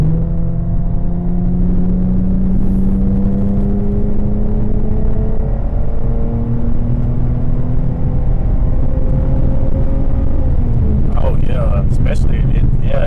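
A Dodge Challenger HEMI fitted with an 80mm throttle body pulls hard at full throttle, its steady engine drone climbing in pitch as it accelerates. A short burst of higher noise comes near the end.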